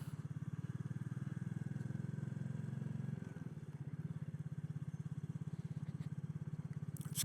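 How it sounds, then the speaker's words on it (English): A Royal Enfield Classic 350 single-cylinder motorcycle throbs steadily underneath the rider on a cold morning ride, a close, even low-pitched thump with a slight shift in tone midway. "It's got a lovely sound to this bike."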